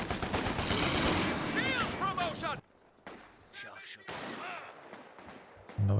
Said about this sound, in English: He's got suppression fire going